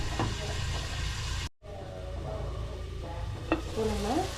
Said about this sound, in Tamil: வெங்காயம் தக்காளி நல்லா வெந்து வதங்கிருக்கு